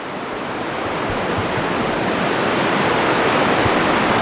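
Rain falls on a big top circus tent as a loud, steady wash of hiss, continuous and unbroken, with no voices.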